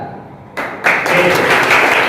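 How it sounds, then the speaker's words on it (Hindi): Students in a classroom break into loud clapping after a brief quiet, the applause rising sharply and continuing as a dense, close burst of many hands. "जबरदस्त ताली होनी चाहिए।"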